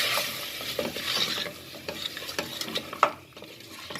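Spoon stirring tomato paste into a sizzling spiced mixture in a pan for a maqluba, close scraping and clacking strokes over a soft frying hiss, with no talking.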